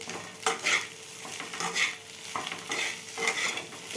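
Pasta with Maggi masala stirred in a hot pan, a spoon scraping in repeated strokes over a steady close sizzle, with no talking.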